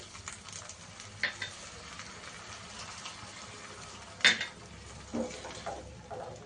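Water poured into fried masala in a pan for a taro and prawn curry, giving a soft steady sizzle with a few sharp clinks of a spoon against the pan and brief stirring scrapes, close and fairly quiet.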